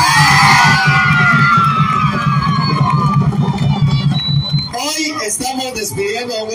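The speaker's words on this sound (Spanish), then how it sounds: "Un aplauso para Shin Fujiyama" Crowd in Guatemala cheering, whooping and shouting for Shin Fujiyama at a farewell gathering, loud and sustained, with a brief burst of speech near the end.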